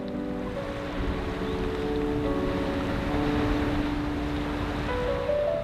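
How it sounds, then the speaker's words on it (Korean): Wind and sea waves wash steadily near a small seaside fishing village, a continuous broad roar with no voices. "바다를 벗삼은 작은 어촌 마을을 향해 부는 바람소리, 파도소리가 정겹게 느껴진다."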